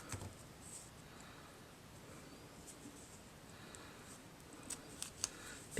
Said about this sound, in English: I tend to seam rip this little seam right here because it gives you a little bit extra